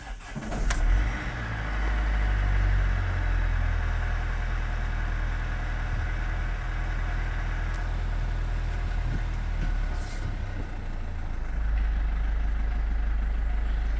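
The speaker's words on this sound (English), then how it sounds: "See that it starts first turn of the key, does its usual rev past to 1500" A 2014 Mercedes Sprinter 313 CDI diesel van engine cranks and catches, then rises in a quick rev before settling into a steady, loud, low rumbling idle that dips briefly near the end.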